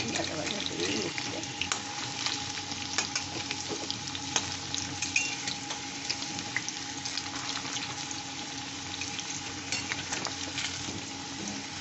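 Close, steady crackle of potatoes frying in oil continues without pause, with faint scattered pops and a light watery hiss underneath.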